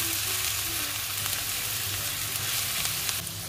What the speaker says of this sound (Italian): Facciamo dorare quindi la cipolla.